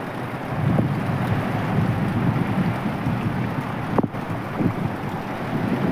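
Gusty storm wind blows steadily and loudly throughout, a broad roar with a brief sharp buffet near the end, no voices present.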